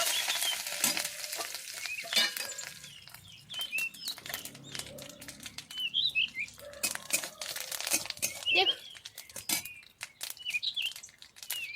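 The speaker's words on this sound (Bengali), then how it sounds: "আর দেব অল্প পরিমাণে গোটা কালো সরষে আর দেব অল্প পরিমাণে কালি পাতা এরপর এগুলো একটু হালকা করে ভেজে নেব" Black mustard seeds and curry leaves frying in a little oil: dense, rapid crackling and popping close by, with the occasional stir and bird chirps faint in the background.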